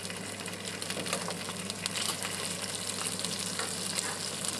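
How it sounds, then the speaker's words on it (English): Snapper skin sizzles steadily in a pan of melting butter as it is basted over and over, a dense continuous frying hiss with small spoon scrapes and pops throughout, close and fairly loud with no talking. "as the butter melts, I just constantly baste that over the skin"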